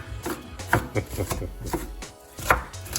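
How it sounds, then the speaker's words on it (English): A knife chops onions rapidly on a cutting board, with a series of sharp, close taps at an uneven rhythm and a brief pause near the end. "We're going to chop up some onions."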